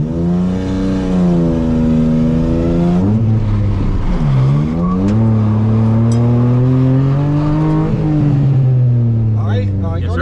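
A car revving hard through first gear during a tactical driving exercise, the engine note climbing and dropping in loud sweeping pulls that dominate the scene up close.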